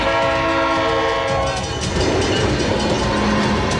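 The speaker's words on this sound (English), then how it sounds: "Here comes the choo-choo." A train passes a rail crossing with a loud, sustained roar and steady wheel rumble, its horn sounding a long tonal blast before fading into the continuous rolling noise.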